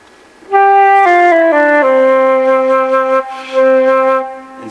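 A solo flute sounds a few low notes with a dull, tubby tone, stepping slowly downward then holding, close and clean with a brief break before a final sustained note.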